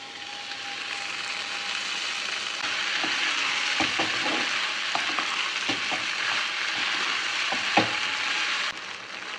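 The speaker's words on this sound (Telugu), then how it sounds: "ఇది కాసేపు ఇలానే కలుస్తూ ఉండాలి ట్రాన్స్పరెంట్ అయ్యే వరకు దీన్ని మిక్స్ చేస్తూ ఉండాలి" Sabudana and boiled potatoes frying in a pan for sabudana khichdi, a constant loud hiss of frying with scattered scraping and clicking stirring strokes in the middle, close and steady without talk.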